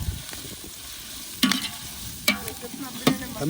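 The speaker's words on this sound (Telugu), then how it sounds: "వీటన్నిటిని బాగా పచ్చివాసన పోయేంత వరకు వేయించుకోవాలి" Ginger, cinnamon and clove paste frying with spices for chicken dum biryani gives off a steady close sizzle, broken by three sharp spoon-stirring scrapes spaced about a second apart.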